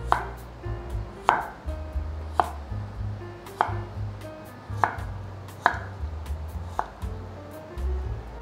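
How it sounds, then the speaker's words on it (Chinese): A knife slices a small cucumber diagonally on a board, about a dozen crisp, evenly spaced chops close by, each with a sharp tap on the board. "去头去尾，把小黄瓜斜切成片"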